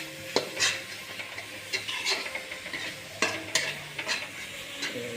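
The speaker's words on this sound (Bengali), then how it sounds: "এবার মশলাটাকে খানিকটা কষে নেব" Masala spice paste being stirred and fried in a pan for a Bengali rui fish recipe, with a steady sizzle under repeated scraping strokes of a spatula against the metal, close and continuous, with no talking.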